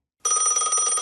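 A telephone rings with a bright, steady electronic trill that starts suddenly and holds loud and close, with no one talking over it.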